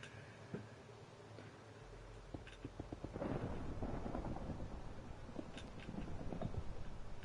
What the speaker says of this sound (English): I made a thunderstorm.